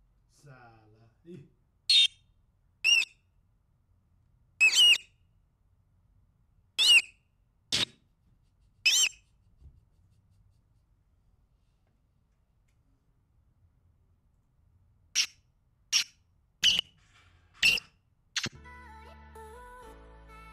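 A series of short, sharp bird squawks and chirps sound one at a time with pauses between, clear and close against near silence.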